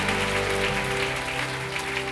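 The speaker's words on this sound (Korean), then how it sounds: "우리 하나님께 감사의 영광의 박수를 드리기를 원합니다." A church congregation at a healing worship service applauds together, a dense wash of clapping sustained over a low held musical tone, loud and continuous throughout.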